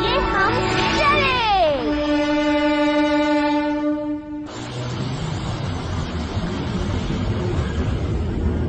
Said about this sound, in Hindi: ट्रेन अब चलने वाली है और ये हम चले।